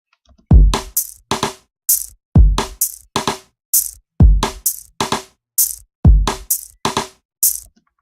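Electronic drum beat programmed in FL Studio, with a punchy kick, snare and bright hi-hats repeating in a steady looped pattern, loud and alone with no talking.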